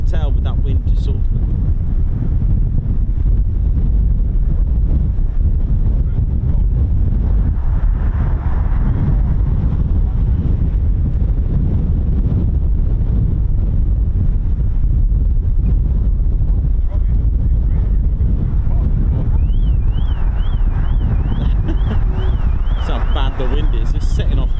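Strong wind buffets the microphone with continuous loud rumbling roar near RAF Mildenhall, steady throughout, with faint engine sounds and a distant alarm-like warble in the background.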